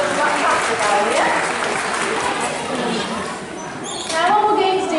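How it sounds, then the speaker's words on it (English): An audience at an outdoor bird show at Flamingo Land claps in a steady, dense burst of applause that lasts throughout, with some voices and chatter mixed in. "Give him a round of applause, guys, he's done fantastic out here."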